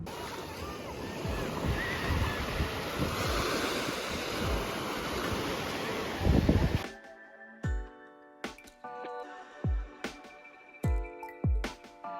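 Ocean surf and gusting wind roar steadily at a beach for several seconds, buffeting the microphone, then cut off abruptly and give way to quieter scattered knocks and handling sounds.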